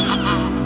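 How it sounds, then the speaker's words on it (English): Geese on a lake give a short, loud burst of honking calls nearby, with several overlapping voices against a steady background. "I guess these might be geese actually."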